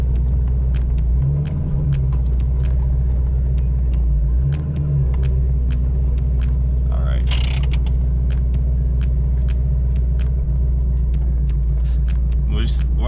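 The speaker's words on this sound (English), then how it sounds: "I'm just gonna let it idle here for a little bit because I haven't had this thing started in stupid long." C5 Corvette V8 idling, a steady deep rumble close by with a brief rev bump early on, while a person talks over it throughout.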